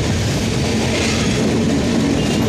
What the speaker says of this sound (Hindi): देखिए अपनी ट्रेन अंदर घुसते हुए